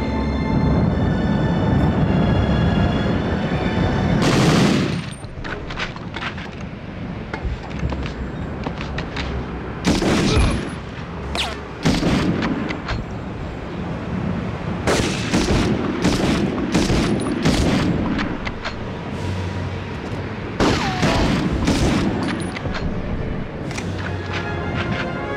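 Loud bursts of gunfire in the PlayStation 1 game Medal of Honor crack and rattle repeatedly, with rapid volleys and booming shots separated by brief rumbling lulls.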